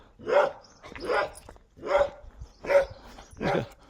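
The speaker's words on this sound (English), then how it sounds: "He's got a bark on him, hasn't he?" A dog guarding its home near a winter coastal cottage barks five times in a slow, evenly spaced series, each bark full and fairly close, with no talk over it.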